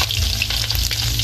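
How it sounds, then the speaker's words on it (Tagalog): Fish frying in a pan for a Filipino pinakbet dish, giving a loud, continuous close-up sizzle and crackle of hot oil with no talking. "Ito na po mga kabayabas yung ating prito"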